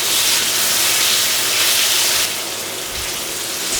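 Chicken deep frying in oil heated to 240 degrees gives a loud, steady, dense sizzling hiss that softens slightly partway through, with no talking.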